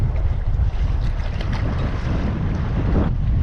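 Strong wind blows at a dam on a bass fishing trip near Fort Worth. A loud, constant roar of wind buffets the microphone with low rumble throughout, and no one speaks.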